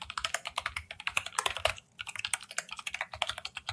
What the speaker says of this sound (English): It's a pretty good keyboard typing, in my opinion.